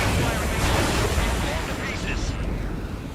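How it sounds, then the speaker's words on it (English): A railgun fires in Ace Combat 7, a dense roaring blast that fills the clip with booming rumble and a bright hiss, loud and close, with a voice partly underneath. "The railgun is firing again."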